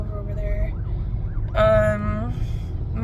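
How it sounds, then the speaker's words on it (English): A police siren wails loudly for about a second in a city street setting, its rising and falling tone sounding close and then fading into steady traffic rumble. "There's a police car or something."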